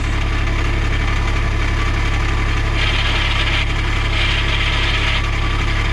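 A 2010 Cushman Truckster diesel utility vehicle with a dump body idles loudly and close by, with a steady low rumble and no talking while it is shifted into reverse.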